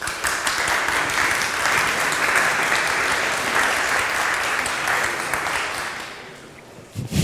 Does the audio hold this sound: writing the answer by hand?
no